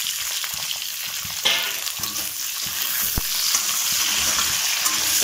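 Chopped onion going into hot oil for mushroom masala fry, a steady close sizzle that grows a little louder, with scattered spoon scrapes and one sharp knock against the pan.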